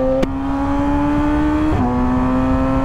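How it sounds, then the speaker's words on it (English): A loud motorbike engine runs close by with a steady high whine, then briefly shifts pitch near the end, and no one speaks. "this bike is so loud, bro."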